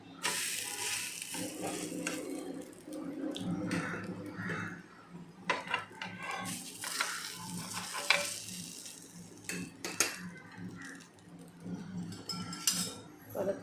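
Healthy diet bhakri flatbread cooking on a pan with a little oil and being flipped: soft, uneven sizzling with repeated scraping and clinking of a spatula against the pan, fairly quiet and close, no talking.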